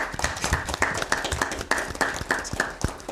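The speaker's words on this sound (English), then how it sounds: "Let's give a round of applause." A small audience at a university debate competition claps after the winners are announced, sharp, distinct hand claps in an uneven, moderately fast rhythm, fairly close.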